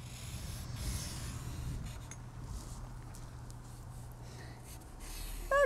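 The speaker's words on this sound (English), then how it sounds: "we're just going to draw with our permanent marker or crayon some tulips" A permanent marker glides across paper while tulips are drawn, producing soft, close scratchy strokes in short irregular bursts over a faint steady hum, with no talking.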